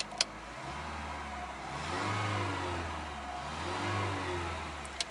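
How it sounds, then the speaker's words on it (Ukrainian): Mazda 626 GE 2.0-litre injector engine running on gas, a low steady idle hum with two gentle rises in revs, heard fairly quietly up close with no talking. "Машина працює."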